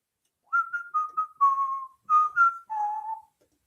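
A person whistles a short tune alone in a quiet room, clear and close: a string of seven or so bright notes in two phrases, each slightly falling, with no talking.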